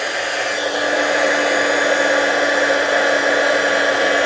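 A heat embossing tool blows and whirs steadily and close by, without pause, while melting white embossing powder with speckled glitter.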